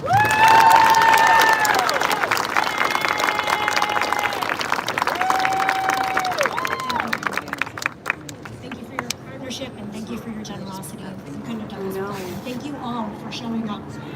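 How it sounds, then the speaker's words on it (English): A crowd at an outdoor demonstration over the Pacific Palisades fire bursts into loud applause, cheers and whistles that fade after about seven seconds as talking takes over. "Please give Miriam a big round of applause."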